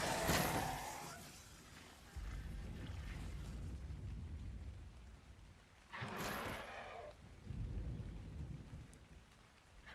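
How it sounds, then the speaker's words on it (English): Steady rain with rolling thunder in the video game Ark: Survival Ascended, a loud rumble opening the stretch and swells of downpour and thunder returning midway and near the end, without talk. "it has been raining for almost half an hour."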